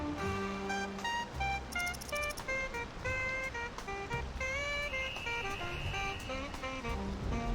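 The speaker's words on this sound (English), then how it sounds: "Is that cars honking their horns?" Car horns honk in a traffic jam within a city-building game, short toots of varied pitch scattered over a busy, steady city ambience, moderately quiet and overlapping.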